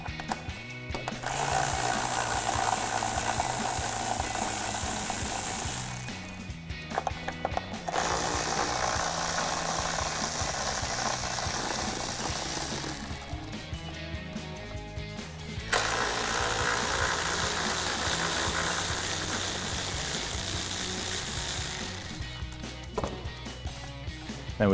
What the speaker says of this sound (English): Now we can take a 10mm socket and remove the 3 bolts holding in our headlight.